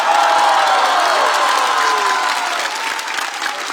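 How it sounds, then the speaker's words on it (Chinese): A large audience applauds performers at the close of a comedy roast show, loud dense clapping with some cheering that tapers slightly toward the end. "我们再次把掌声送给今天优秀的表演者们"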